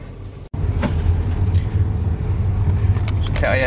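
An Audi driven by a 17-year-old learner on a first drive, with steady engine and road noise throughout and no talk over it.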